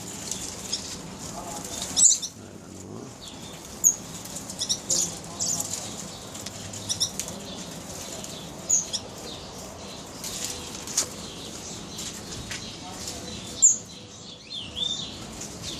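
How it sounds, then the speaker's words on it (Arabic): Wild birds newly placed in an aviary in Sulaymaniyah flutter their wings in short bursts, with high chirps scattered over a low steady background. "طبعا طيور جديدة، قبل يومين وضعتهم بالمطير."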